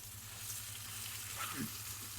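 Pork neck searing in a hot frying pan, a steady close sizzle with a low hum beneath and a brief stir or shift of the meat near the end.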